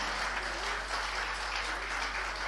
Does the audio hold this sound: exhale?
no